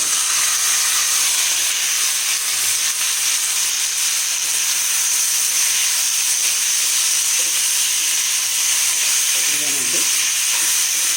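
Okra curry poured into hot tempering oil sizzles loudly and steadily, a dense hiss that fills the whole stretch with a brief low murmur near the end.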